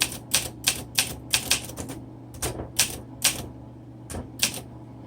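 A 1961 Olympia SM7 manual typewriter typing in crisp, close keystrokes. The strikes come in quick bursts of two or three with short pauses between them, loud and clear against a low background hum.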